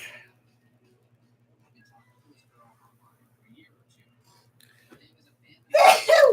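A single sharp sneeze bursts out at the very end after near silence, close and loud.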